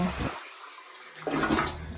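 A toilet flushing in a bathroom at a tent campsite at Khao Yai Thiang: a rushing burst of water, a brief quiet gap, then the gush resumes strongly and keeps going, with a faint voice early on.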